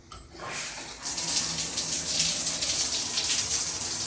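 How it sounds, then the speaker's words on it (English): Water gushes steadily from a hotel shower head in a Hyatt Place room, a loud, continuous hiss of spray that starts after a brief click and runs unbroken with no talking. "that is the pressure of the shower head"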